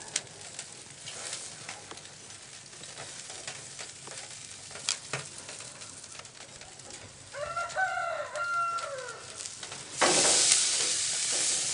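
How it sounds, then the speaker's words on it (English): A ham steak sears in a hot pan, a soft continuous crackle and sizzle running steadily throughout, with a brief louder hiss burst near the end. "Starting to crackling up a little bit."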